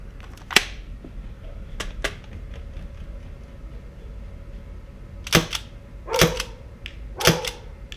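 Sharp mechanical clicks and snapping shots ring out from a Novritsch SSX-303 airsoft gun, a few scattered then a quick cluster of louder cracks, with faint clatter between.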